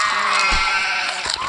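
A sheep bleats loudly in the dragon video game Hungry Dragon, a single drawn-out wavering cry heard over dense, bright game sound.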